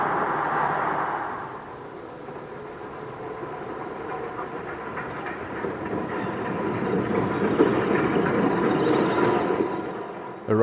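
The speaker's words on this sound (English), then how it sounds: "One of the Southern Region's Hampshire units departs on the 1:40 p.m." A Southern Region Hampshire diesel-electric unit departs on the Poole to Weymouth service, a steady engine rumble building with rhythmic wheel clatter that grows louder toward the end, with faint voices early on.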